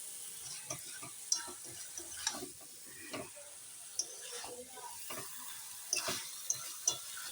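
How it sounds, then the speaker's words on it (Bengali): Chicken curry in ground spice paste being stirred in a pot, with soft scraping strokes, light sizzling and occasional sharp clinks of a utensil against the pan, close and moderately quiet. "এখন পুরোটা ভালো করে নেড়ে নিলে মশলার সঙ্গে মেলাতে হবে"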